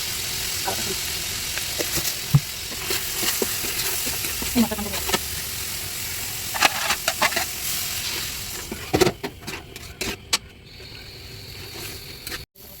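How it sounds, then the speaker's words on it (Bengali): Ground spices sizzle and are stirred in leftover fish-frying oil, a steady hiss with scraping spatula strokes throughout, under occasional talk. "এখন দিয়ে দিচ্ছে হচ্ছে মাছ ভাজার যে তেলটা ছিল ওটা দিয়ে ভালো করে মশলাগুলোকে কষিয়ে নিচ্ছে।"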